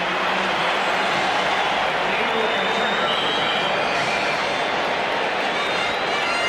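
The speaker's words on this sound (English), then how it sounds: "And now Danielson is clapping his hands along with the crowd." Dense stadium crowd noise at a 1982 Detroit Lions home game against the Minnesota Vikings, a steady roar with clapping blended in, loud and continuous throughout.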